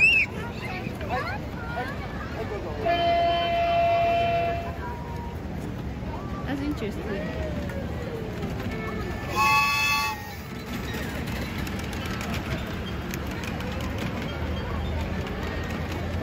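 A miniature steam locomotive ride train at a cherry blossom festival in Kunitachi, Japan, rumbles steadily with two bright whistle toots amid a busy crowd chattering nearby.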